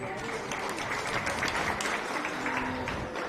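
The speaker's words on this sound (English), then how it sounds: "Give them a round of applause." Crowd applause at a county fair beef show, steady clapping over about three seconds, moderately distant and diffuse, with some voices mixed underneath.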